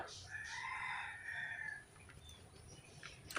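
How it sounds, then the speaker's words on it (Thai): A rooster crows loudly for under two seconds, its drawn-out call rising and holding before trailing off, heard in a quiet outdoor setting with faint background noise afterward. "มีเสียงไก่ขันอีกแล้วนะครับ"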